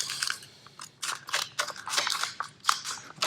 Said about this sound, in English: So I'm just going to cut it right here.